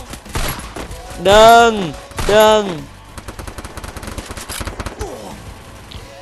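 Rapid gunfire bursts from the M500 in the mobile shooter Free Fire, two loud clustered volleys early on followed by a run of quicker, quieter shots, with a brief spoken word among them.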